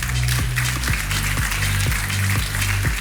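An audience at a master's degree graduation ceremony applauds steadily, dense clapping filling the hall, backed by a loud rhythmic musical beat pulsing underneath.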